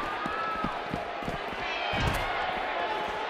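Virtual arena crowd in the wrestling video game WWE 2K19 cheering and clapping during a Pro Wrestling Noah match, a steady roar punctuated by thuds and slams from the ring, with voices speaking over it.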